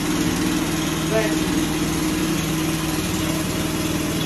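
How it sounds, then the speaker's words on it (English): A JCB hydraulic breaker power pack engine idles steadily and loudly nearby, a constant dense mechanical drone with no change in pitch, and a voice speaks over it. "Allow the machine to idle for a little while"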